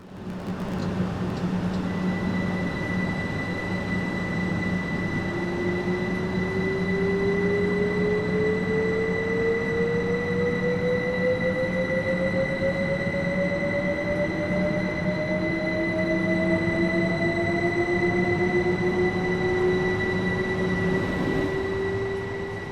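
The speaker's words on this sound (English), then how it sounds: "At least she still has that classic Electrostar motor whine." Class 313 Electrostar electric multiple unit in Train Sim World 4 gives off a steady, loud motor whine that climbs slowly in pitch as it accelerates, layered over a constant low rumble of running gear for about twenty seconds, with no talking.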